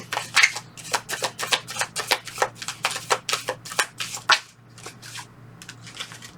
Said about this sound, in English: One more shuffle through.